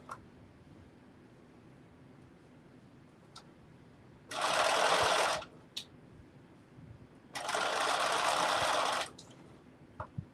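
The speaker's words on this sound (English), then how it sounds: "Almost done sewing this on" Sewing machine stitching a fabric bucket hat, two steady bursts of close, loud whirring of about a second and nearly two seconds, separated by quiet room noise and a few faint ticks.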